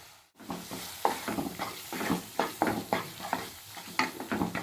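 Masala with turmeric and chilli powder stirred in a frying pan for egg pepper gravy: a quick, rhythmic series of close scraping strokes over a soft, steady sizzle.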